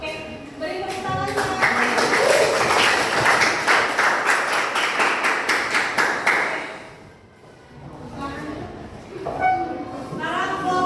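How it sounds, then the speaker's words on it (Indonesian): Classroom applause during a molecular-shapes chemistry lesson: a burst of many hands clapping quickly and loudly for several seconds, then fading out, followed by scattered voices talking. "Oke, beri tepuk tangan"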